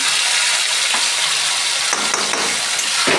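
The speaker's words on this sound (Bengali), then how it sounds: "আমার মাংসের জন্য মশলা কষানো চলছে" Spices fry with browned onions for a chicken curry, making a loud, constant hiss close by. A few brief scraping strokes of stirring cut through, and nobody talks.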